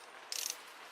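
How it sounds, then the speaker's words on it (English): A ratchet driving a small screwdriver bit clicks in two short bursts of quick, close ratcheting, with a brief pause between them. "So instead of finding a screwdriver to use, I use a fucking ratchet."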